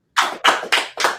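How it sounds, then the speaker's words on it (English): A crowd claps in unison at an indoor gathering, four loud, evenly spaced claps ringing with a short echo, with no talking. "Clap it up."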